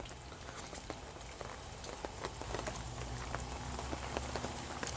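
Steady rain pattering on a surface at a campsite in Great Smoky Mountains National Park, with scattered drips and taps over a constant wet hiss; no voices.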